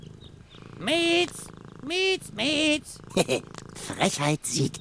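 A cat purrs with harmonic, meow-like swells in the point-and-click adventure game Deponia, several loud bursts close up with a voice talking between them.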